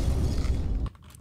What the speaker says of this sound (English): That's explosions! So many explosions!